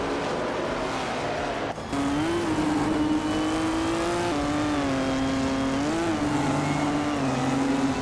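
Race cars, led by a 1958 Ferrari 246 F1, surge off the start line in a racing game, a loud engine note climbing and wavering through upshifts as other engines drone nearby.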